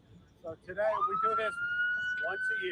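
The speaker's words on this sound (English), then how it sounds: "Sorry about the sirens," A fire department siren wails up and holds a steady high tone at a public fire safety day, loud and nearby, under a voice talking over it.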